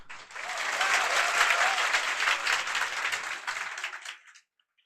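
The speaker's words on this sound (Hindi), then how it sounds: "चलिए एक बार ताली बजा दीजिए।" A roomful of students in a class applauds on request, a full burst of clapping that swells quickly, holds steady for several seconds, then fades out and stops.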